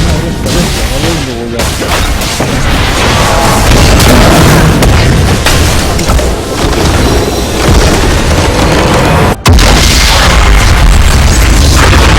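A turret is destroyed in a ranked League of Legends match, with a booming explosion inside dense, loud game audio. Battle effects stay constant throughout, and an announcer-style voice is faintly present.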